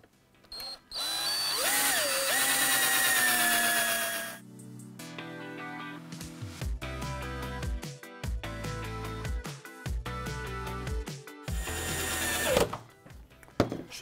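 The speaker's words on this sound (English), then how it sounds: "I'm going to start to fix these together, again using the 4-inch screws, drilling some pilot holes so the timber doesn't split." A power drill bores pilot holes and drives 4-inch screws into timber, with a long whining drill run followed by a series of short pulsing bursts of screw driving, close and loud.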